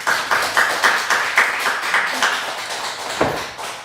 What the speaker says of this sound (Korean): 경례의 박수, 축복의 박수 하겠습니다.